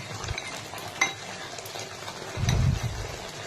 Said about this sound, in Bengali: গ্যাসটাকে সিমে করে দিলাম, আমি পনিরগুলোকে দিচ্ছি।